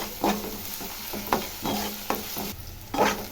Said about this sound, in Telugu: ఇది పచ్చివాసన పోయేంత వరకు బాగా వేయించుకోవాలి ఫ్రెండ్స్